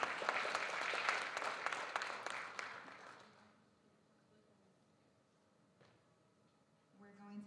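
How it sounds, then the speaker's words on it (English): Applause for a student from a school board meeting audience: a dense, loud patter of clapping for about three seconds that trails off into a quiet room, with a voice beginning to speak at the end. "Give her another round of applause."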